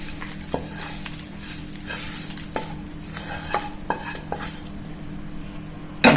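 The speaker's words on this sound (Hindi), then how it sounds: "इसको इसी में डाल दिया और इसको अच्छी तरह से अब हम भूनेंगे तेल छोड़ने तक" Masala and gravy being fried together in a pan, with a spoon scraping and stirring at irregular intervals over a soft continuous sizzle and a few sharper metallic clinks.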